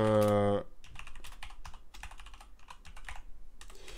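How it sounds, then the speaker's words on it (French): Typing on a computer keyboard, a short tonal beep first and then a run of quick, irregular key clicks close by, fairly loud, with no voices over them. "j'ai changé mon clavier, il est plus en AZERTY, c'est pour ça que j'ai du mal et je fais des fautes de frappe tout le temps"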